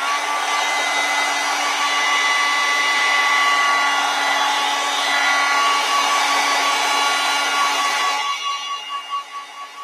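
A hair dryer blows steadily and loudly to dry watercolor paint on paper, with a constant whooshing tone for about eight seconds before it winds down and cuts off.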